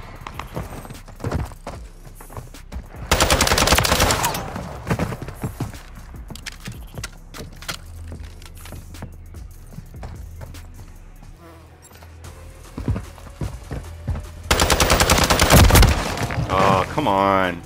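Bursts of gunfire in Call of Duty MW3 multiplayer on PS5, with two loud dense volleys standing out over scattered shots and game noise while a voice talks.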